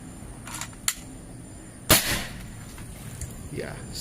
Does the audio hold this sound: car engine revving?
no